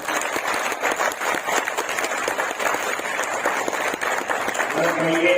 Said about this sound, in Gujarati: એ બહેનો માટે એકવાર જોરદાર તાળી